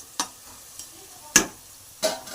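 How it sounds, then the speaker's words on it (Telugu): Onions fry in a pan, with a faint steady sizzle broken by four sharp scraping stirs spaced about a second apart, close by and without speech. "రెడ్ కలర్ షేడ్ వచ్చేదాకా బాగా ఫ్రై చేసుకుందాం"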